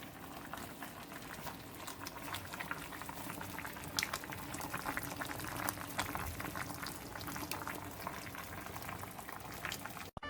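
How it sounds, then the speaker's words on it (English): Loquat jam simmers in a pot over medium heat, giving a steady, close crackle of small bubbles popping that continues evenly throughout with no voices. "And let it simmer for like 1 to 2 hours. And just come back when it's bubbling."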